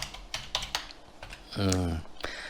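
Command typed on a computer keyboard during a network security demonstration, a quick run of close key clicks interrupted by a brief burst of speech.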